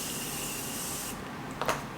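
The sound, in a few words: Morphe setting spray sprayed on face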